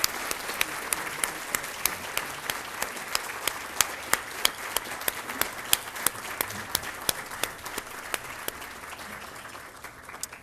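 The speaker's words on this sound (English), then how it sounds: "Let's give them a round of applause for their dedication and commitment to the California Community Colleges." Audience applause at a California Community Colleges award presentation, with many hands clapping steadily for about ten seconds at a moderate level and a few sharp, close claps standing out before it thins toward the end.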